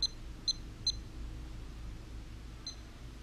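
Short high electronic beeps from a timer being set at a Washington Supreme Court candidate forum: three quick chirps in a row, then a fourth after a pause, clear against a quiet room.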